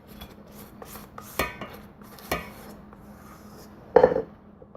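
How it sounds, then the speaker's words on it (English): A utensil scrapes a sticky meringue, pecan and saltine cracker mixture into a buttered pan, giving a few sharp scrapes and clinks of metal against the pan, separated by quiet pauses. "Just kind of scrape like that"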